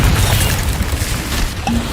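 A Confringo fire spell cast in Hogwarts Legacy erupts as a dense, crackling, booming burst that runs through the whole moment over busy game noise.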